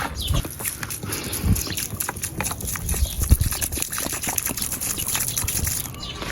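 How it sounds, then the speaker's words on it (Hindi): Water poured onto a small walnut tree makes an irregular splashing, trickling patter, close by and fairly steady, with scattered soft thuds throughout. "अभी इसको पानी देते हैं"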